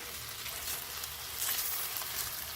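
Vegetables and beef caramelize together in a pan for boeuf bourguignon, a soft, even sizzle and crackle with a few brief louder pops, steady and unaccompanied by talk.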